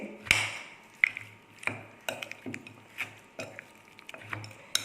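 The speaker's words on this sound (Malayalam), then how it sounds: "ഇതെല്ലാം കൂടി നല്ലപോലെ മിക്സ് ചെയ്യണം" Chicken is mixed with spices and a spoonful of coconut oil in a bowl for crispy fried chicken. Soft rhythmic clinks and taps of a utensil sound about once a second over quiet, wet stirring.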